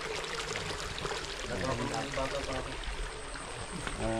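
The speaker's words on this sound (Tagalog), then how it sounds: "Ito yung waterfalls ni Paring Mac." A waterfall on a farm in Tarlac gives off a steady broadband rush of falling water, fairly faint and continuous, with possible soft voices mixed in.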